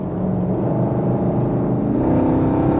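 A classic Mopar with its original Hemi block and resonators, near 61,000 miles, runs with a loud, steady, close engine rumble and whir that swells slightly near the end.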